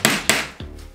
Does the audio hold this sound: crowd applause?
no